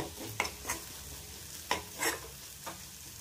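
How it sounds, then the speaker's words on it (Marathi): Chilli powder and spices fry in a pan for bombil bhurji. A soft, continuous sizzle is broken by about five distinct spoon scrapes against the pan, close and moderately quiet, with no voices. "आणि हे पण मस्त असं फ्राय करूया"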